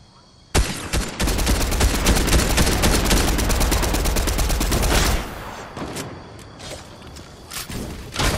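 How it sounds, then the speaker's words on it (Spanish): Rapid bursts of automatic gunfire from a video game crackle loudly for several seconds, then give way to scattered, quieter shots and thuds, with no talk. "Eso me son disparos, tío."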